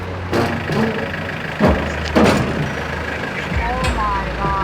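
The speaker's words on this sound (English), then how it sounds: "So this is our first of two 40-foot container trucks that we would have to move into our brewing space today." A 40-foot container truck rumbles nearby with a steady low engine drone, a few louder hisses and clunks, and a faint rising tone near the end.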